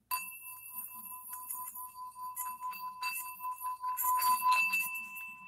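A cheap $5 singing bowl bought online rings with a steady, high metallic tone while something rattles and clinks against it, giving a buzzy, uneven resonance, close and quiet.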